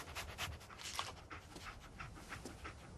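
A dog companion in the Fallout 4 video game pants in quick, repeated breathy bursts that stay close and steady throughout, with no speech over them.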